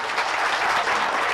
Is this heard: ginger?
no